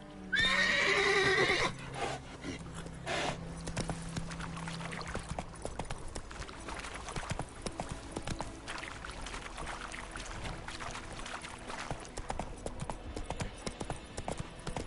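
Roach, the horse in The Witcher 3, gives a loud, close, shrill whinny at the start, then hooves clip-clop steadily over a long stretch beneath ambient game sound.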